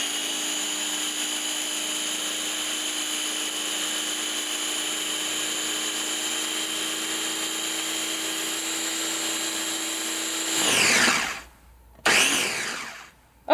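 A food processor whirs at a steady high pitch while mixing cinnamon tooth powder, running evenly for about ten seconds before it surges, cuts off briefly, and starts up again.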